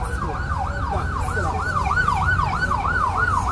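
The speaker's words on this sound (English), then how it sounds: "You have the sirens." An emergency vehicle siren wails in a steady up-and-down cycle on a street, loud and continuous over low traffic rumble, with no talking.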